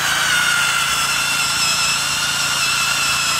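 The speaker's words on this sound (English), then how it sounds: "I just drill this hole down to where it's deep enough to go through all three pieces of wood" A power drill whines steadily and loudly at close range, boring continuously through three stacked pieces of wood with no pauses.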